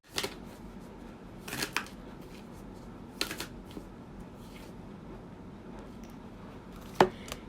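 Sacred Traveler and Moonology oracle card decks being shuffled and drawn from, with soft riffling and a few sharp card snaps close by over quiet room tone.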